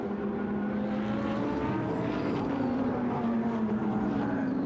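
Lamborghini Super Trofeo race car on the Silverstone circuit, engine drone with a rising pitch as it rides the curbs, a steady mid-distance roar with a faint rattling texture and no talk.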